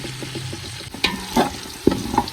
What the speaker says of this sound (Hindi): तो इसमें अपने प्याज जो है उनको सुरख कर लेते हैं।